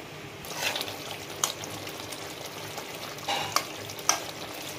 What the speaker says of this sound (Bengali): একটু উচ্ছা ভাজা করবো। উচ্ছাটার আমি নুন মাখিয়ে নিলাম।